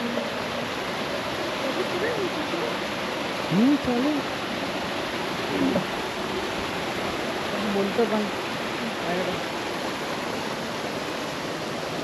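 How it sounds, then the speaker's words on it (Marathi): Clear water flows continuously behind a temple after rain, a constant rushing wash that stays steady throughout while people speak briefly over it. "पाणी एवढं स्वच्छ आहे आणि जस्ट आता पाऊस संपला आहे तरी देखील पाणी कंटिन्युअस वाहत येतं आहे"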